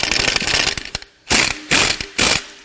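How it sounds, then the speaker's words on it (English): Ratchet wrench cranking a puller to remove the crank pulley from a blown 2.4L Ecotec engine out of an Equinox/Terrain, with a run of fast clicks followed by three short, loud, close ratcheting bursts. "All right, let's get this crank pulley off."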